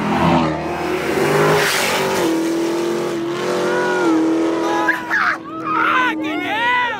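Mustang 350 engine revving loudly at Mustang Week 2023 amid a lively crowd, rising and falling roars with tire noise while people talk and shout nearby.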